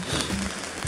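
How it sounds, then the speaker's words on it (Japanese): Rain falls on the Sea of Japan coast on a nearly windless morning, a dense, even hiss of drops with faint crackling texture and no voices. "7時18分の日本海は雨が降ってますが"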